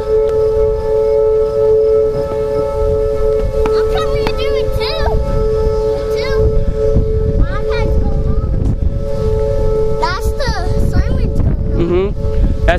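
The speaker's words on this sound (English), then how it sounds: "As the siren's going off, we're under a tornado warning." Civil defense tornado warning siren wailing as a steady tone through a supercell storm in St. Louis, Missouri, with wind rushing at the microphone and a person talking over it throughout.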